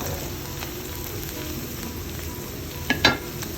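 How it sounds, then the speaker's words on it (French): Chicken noodles cooking in a pan as they are stirred, giving a soft continuous sizzle with faint scraping, fairly quiet and close, with a couple of brief sharper clicks near the end. "après 3-5 minutes de cuisson, tout en remuant, bien sûr"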